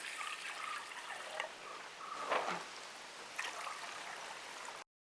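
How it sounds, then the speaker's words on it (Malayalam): Two glasses of water pour into a sweetened lemon juice mixture, a faint, continuous trickle and splash heard close and alone for a few seconds. "ഇനി ഇതിൽ നമുക്ക് 2 ഗ്ലാസ് വെള്ളം ഒഴിച്ചു കൊടുക്കാം."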